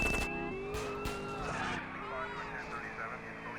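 Police sirens wail in the video game GTA San Andreas amid car engine noise and tyre skids, the siren tones gliding up and down under a man's speech.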